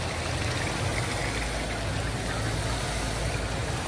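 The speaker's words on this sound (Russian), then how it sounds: "Вот вода." A small fountain or little cascade in San Francisco pours in a steady, close wash of flowing water, with a low rumble like distant traffic beneath it and no talk.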